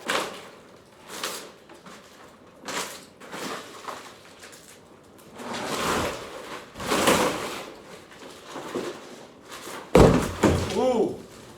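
During demolition of an industrial building, a door is struck and broken out with several dull thuds and slams, separated by pauses, ending in a louder crashing impact and rattle; people talk between the hits.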